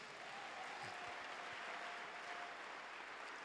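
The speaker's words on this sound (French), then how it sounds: "Acclame le Seigneur Jésus" A church congregation claps steadily in a faint, even wash of applause that holds throughout, distant and without distinct individual claps.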